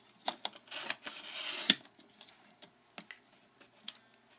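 A paper trimmer cuts card paper for a sticker card, giving quiet scattered ticks and clicks with one brief rasping slide of the blade, close and faint with no talk.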